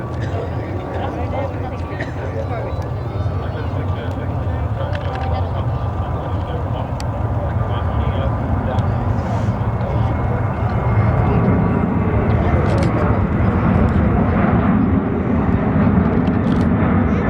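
Ryanair Boeing 737 jet at Manchester airport, a steady loud broadband engine roar that swells slightly toward the end, with radio voices in the background.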